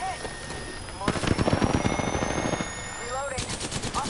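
Rapid automatic gunfire from a first-person shooter video game crackles in dense bursts for several seconds, with tense voices talking over the shooting and a high electronic tone running underneath.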